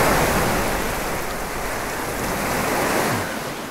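Water rushes and splashes as a large creature jumps into a pool in the video game The Last Guardian; a loud, steady wash of surf-like noise fills the whole stretch with no break.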